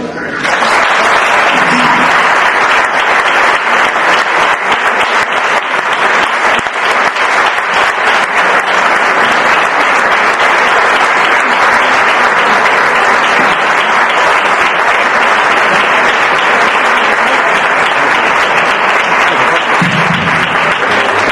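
A lecture audience gives a physician and writer long, loud, sustained applause, a dense, even roar of many hands clapping that holds steady for over twenty seconds with no speech.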